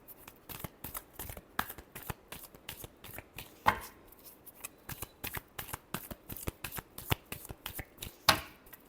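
Tarot cards are shuffled by hand in steady rapid riffles, a close run of crisp flicks and slaps with a few sharper snaps, continuing without speech.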